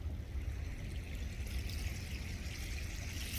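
Continuous rushing of flowing water in an Icelandic canyon, a steady broadband wash with no voices, fairly close and even in level throughout.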